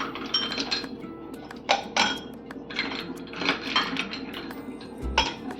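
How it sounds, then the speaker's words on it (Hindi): Ice cubes clink and clatter into a glass of aam panna with fresh mint leaves in a few sharp, close hits, with a small scrape between drops. "ये देखिए, साथ में इसके जाएगा आइस क्यूब्स।"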